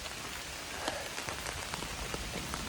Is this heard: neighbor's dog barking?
no